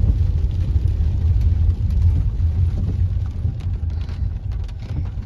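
Steady rain falls over village fields in a broad, even hiss with a deep rumble underneath, continuous throughout with no voices.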